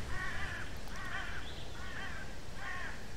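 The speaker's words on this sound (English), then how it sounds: "These damn crows, man. Where are these crows at?" Crows call outdoors with four evenly spaced harsh caws, fairly near and clear, over a steady low background rush.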